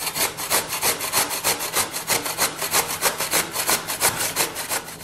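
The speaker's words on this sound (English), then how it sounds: "take the potatoes, well washed, and grate it" Washed raw potatoes rubbed against a grater for polenta potato patties, making a fast, rhythmic rasping scrape in even strokes, close and loud, with no voices.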